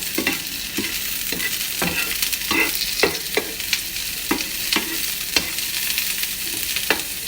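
Eggplant and potato frying in a pan while being stirred, a steady sizzle broken by regular scraping strokes of a utensil against the pan, close and clear with no talking.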